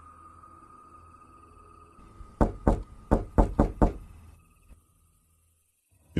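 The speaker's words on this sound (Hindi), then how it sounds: "फिर दूसरी दस्तक हुई।" Six sharp knocks strike a wooden door in a quick uneven cluster, loud and close, in a hushed night scene before everything falls silent.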